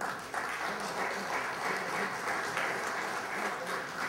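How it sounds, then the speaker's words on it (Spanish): Steady audience applause at a sports development conference, honoring the president of the Spanish Olympic Committee as he takes the stage, sustained and even in level throughout with no talk over it. "El aplauso para él."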